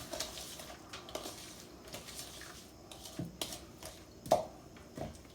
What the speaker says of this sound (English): If you can see it, I'm mixing it. Mixing it.